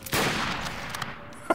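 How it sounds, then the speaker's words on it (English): A single sharp gunshot in Garry's Mod cracks loudly and close, then trails into a fading echo, followed by a faint clatter and another quick pop at the end. "they keep shooting at me"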